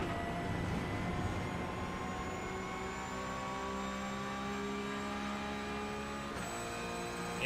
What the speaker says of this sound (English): you can listen to this engine roar